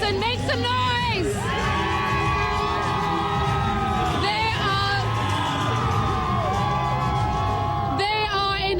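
A huge New Year's Eve crowd in Times Square, New York, roars and whoops without a break, shrill cheers and yells rising in waves, loud and close throughout.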